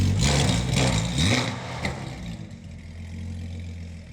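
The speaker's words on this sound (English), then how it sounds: "a quick preview on the Valvetronic exhaust that I just had installed" A Porsche GT4 with an aftermarket Valvetronic exhaust revs loudly and close, roaring for a second and a half, then settles to a low, steady rumble as the engine idles.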